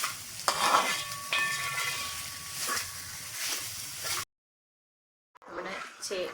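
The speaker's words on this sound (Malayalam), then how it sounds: "2 ടേബിൾ സ്പൂൺ ചക്ക വരട്ടിയത്, എല്ലാം കൂടെ ചേർത്ത് നന്നായിട്ട് വഴറ്റിയെടുക്കും" Yam, banana, dates and jackfruit preserve being stir-fried together in a pan for a sweet yam dish, giving a close, steady scraping and sizzling that stops abruptly, then resumes briefly after a pause.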